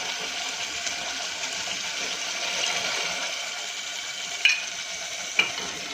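A steady, loud sizzle of cabbage kofta curry gravy frying in hot oil, with two sharp splattering pops near the end.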